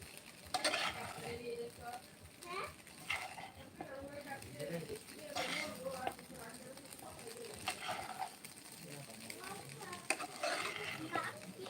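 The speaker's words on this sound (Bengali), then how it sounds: "নেড়ে নিচ্ছি তো ডিমগুলো দিয়ে দিচ্ছি" Eggs are stirred and fried in a pan for Chinese-style vegetable noodles, giving soft, repeated scraping strokes over a quiet sizzle. Voices talk throughout, and children can be heard in the background.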